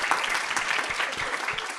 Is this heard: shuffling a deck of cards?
no